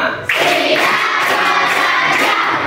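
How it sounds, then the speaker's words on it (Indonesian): A class of children performs a group clap routine, erupting into a loud, sustained burst of clapping mixed with shouting voices that fills the room for over two seconds. "Tepuk 5."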